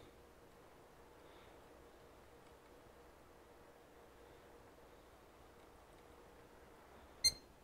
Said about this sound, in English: Yeah, we heard a beep.